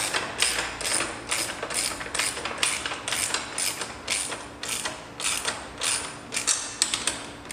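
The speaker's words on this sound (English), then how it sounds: "you grab your 10mm wrench and tighten everything back up" A 10mm wrench tightens a nut on a Yamaha FZ-09 fender eliminator, producing close, steady ratcheting clicks in quick rhythmic bursts with short pauses between strokes.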